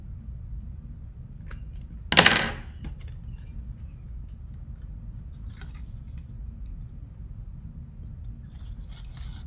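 Scissors trim a paper butterfly template with one crisp, close snip, followed by a few faint paper rustles in a quiet room.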